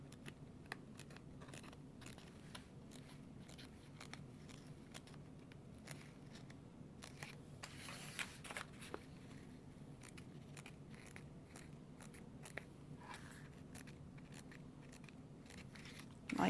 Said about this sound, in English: I like to just clip my sides and then I'll snip into this gusset here.